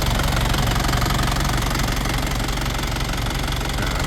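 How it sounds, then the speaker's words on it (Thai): A 2001 Isuzu Vega 3.0 4WD pickup truck engine idles steadily up close with the hood open, a dense, even rumble with a faint knocking rhythm and no talking. "อันนี้เสียงพอนะครับ ผมเครื่องนิ่มนะครับผมอันนี้"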